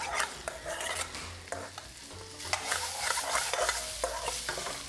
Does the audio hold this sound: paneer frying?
yes